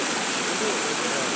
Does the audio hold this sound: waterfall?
yes